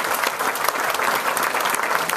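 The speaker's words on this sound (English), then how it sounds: "Go ahead, ladies, you can clap." Sustained, close applause from an audience at a drug policy speech, a thick wash of many hands clapping at a constant level throughout, with no talking on top.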